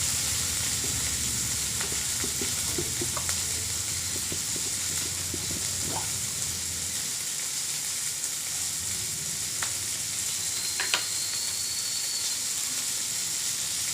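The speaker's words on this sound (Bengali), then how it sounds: "পেঁয়াজ ও টমেটো ভালো করে ভাজা ভাজা হয়ে গিয়েছে" Onions and tomatoes fry in a pan for ghugni, a soft continuous sizzle and hiss with occasional faint clinks of stirring, steady and fairly quiet throughout.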